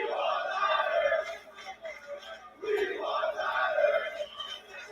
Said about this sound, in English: Crowd's starting to stir.